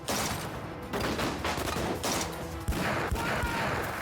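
Gunfire erupts in a scene from a Telemundo TV drama, a dense, loud fusillade of overlapping shots with several sharp cracks standing out near the end.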